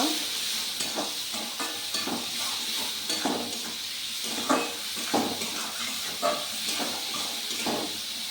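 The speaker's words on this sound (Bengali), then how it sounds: "দিয়ে আমি মশলাটা দিয়ে এখন আমি একটু ভেজে নিব" Cumin, turmeric and chili powder spice mix frying in a pan for a potato and chhana curry, a steady hiss and sizzle with repeated scraping stir strokes close by.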